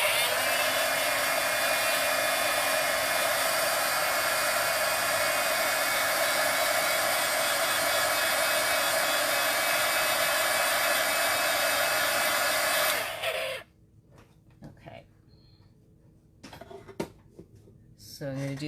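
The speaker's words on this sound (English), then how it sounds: "I'm going to just take my heat gun and dry it so that we can add a second layer of color" A handheld heat gun blows loudly and steadily while drying ink on a card for wintry cardmaking, then cuts off; after it stops, faint handling clicks and rustles remain.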